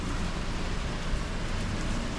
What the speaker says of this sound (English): wait for this rain to die off a bit